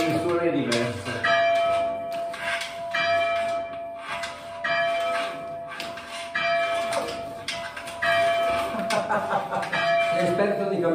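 Church bells of Cellole in Siena province rung by hand in full swing, clanging repeatedly and irregularly with overlapping tones, while people talk nearby throughout.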